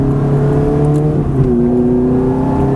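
A Ferrari F430 engine accelerating during a track driving session, a loud, steady engine drone that rises in pitch, briefly dips as the gear changes, then climbs again, close and continuous.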